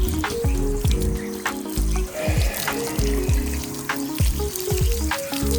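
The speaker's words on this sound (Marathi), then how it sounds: "पाणी मारतो आता" Water being sprayed during household chores on a hot summer day: a steady hissing spray with splashy bursts over a low droning hum, and no talking.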